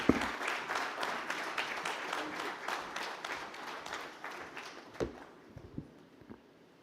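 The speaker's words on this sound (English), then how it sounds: "let's give him a huge round of applause" Applause from a conference audience, dense and steady at moderate volume for several seconds before thinning into a few scattered final claps.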